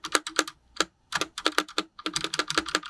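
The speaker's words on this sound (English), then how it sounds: "the sound of the rattly space bar" Typing on a full-size Tecware Spectre Pro mechanical keyboard with Outemu switches and a rattly space bar, a close, steady run of clacky keystrokes in quick bursts with short pauses, no talking.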